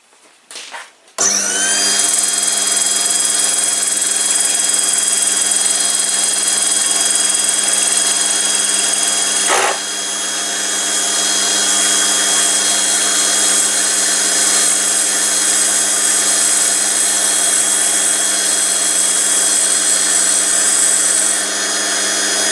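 A lathe turns a Tufnol split axle down to a 4.7 mm outside diameter, a steady loud machining whine with strong tonal hum held for about twenty seconds after a brief start, one sharp tick near the middle.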